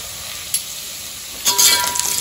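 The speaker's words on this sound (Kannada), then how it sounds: "ಎಣ್ಣೆ ಕೂಡ ಫ್ರೈ ಆಗಿದೆ" Oil sizzles in a pan while food is stirred, a soft continuous frying hiss with a small clink early, then louder scraping and sizzle bursts in the final second.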